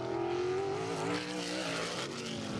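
A race car engine on Anderson Speedway revs hard and loud, a dense sustained roar that climbs in pitch and then eases slightly as it passes, with no voices over it.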